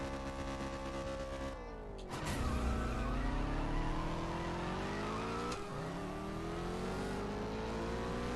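A race car in the CSR2 mobile drag-racing game revs hard and accelerates through gear shifts, its engine tone climbing in steady harmonic sweeps with a sharp shift around two seconds and another near five and a half, loud and continuous with no talk.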